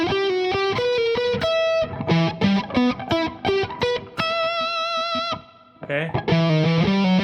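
Distorted electric guitar runs an ascending arpeggio through the root, third and fifth from a theme in Guilty Gear, with effects; notes ring clearly and steadily, with a brief spoken word from the player.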